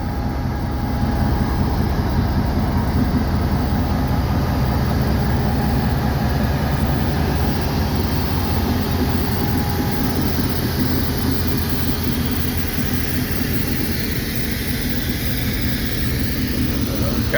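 A locomotive rumbles along a railroad track with a steady, continuous low roar and a faint high whine, close and loud throughout without a break.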